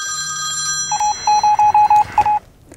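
Telephone ringing in a fulfillment service advert: a run of short, evenly spaced electronic ring pulses over a faint sustained musical tone, ending abruptly.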